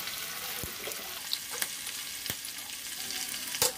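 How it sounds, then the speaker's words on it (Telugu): Curry leaves and asafoetida fry in oil in a pan, giving a steady, close, crackling sizzle with a few sharp pops and spatters from stirring; no one speaks. "ఇప్పుడు కరివేపాకం వేసి ఫ్రై చేసుకోవాలి అలానే ఒక అర స్పూను ఇంగువను కూడా వేసి ఫ్రై చేయాలి"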